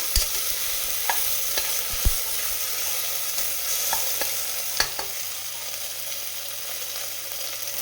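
Frying in a pan while making chicken biryani, with a continuous sizzle and occasional sharp clicks and taps of a stirring spoon against the pan.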